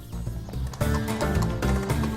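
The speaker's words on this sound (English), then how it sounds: "The famous Arabian stallion is the most highly prized horse in the region to this day." An Arabian stallion at a hippodrome in Tunis neighs loudly and close by, with repeated whinnying bursts and hoof clops in the background.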